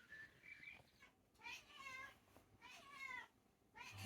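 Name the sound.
old pet cat meowing loudly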